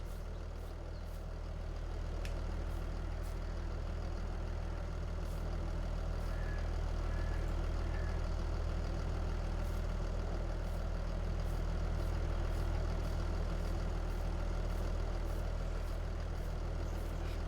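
A farm tractor hitched to a log trailer idles steadily at a sawmill, a constant low engine rumble heard from nearby, unbroken for the whole stretch with no voices.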